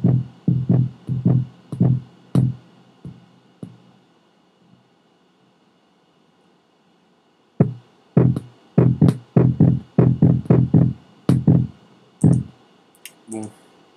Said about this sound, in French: j'ai un battement de cœur ici